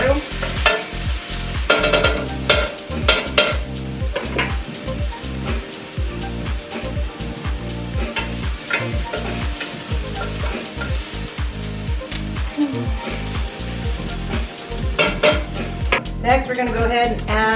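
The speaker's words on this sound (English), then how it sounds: "Stir this to about translucent." Food for a shepherd's pie frying in a pan as it is stirred, with a steady sizzle under repeated rhythmic scraping strokes of the utensil. The sound is close and busy throughout.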